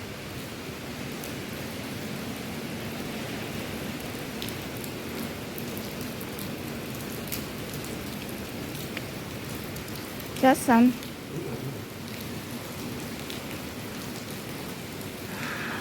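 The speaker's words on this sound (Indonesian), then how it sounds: "Hujan Hong Kong diguyur hujan badai" Heavy rain pours steadily in a constant dense hiss during a typhoon in Hong Kong, with a brief faint voice partway through.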